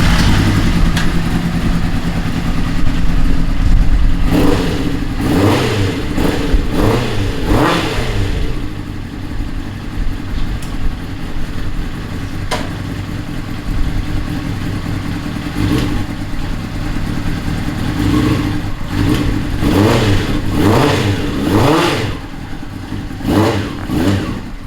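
A Geo Metro cross kart swapped with a Honda CBR600RR motorcycle engine idles, then blips and revs in several sharp bursts that rise and fall. It pulls away on its first drive down a driveway, loud and close.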